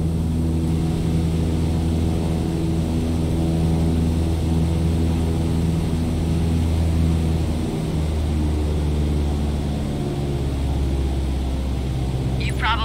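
Propeller aircraft engine in Microsoft Flight Simulator throttled back to 1,800 RPM, a steady loud droning hum with a constant low tone that holds throughout.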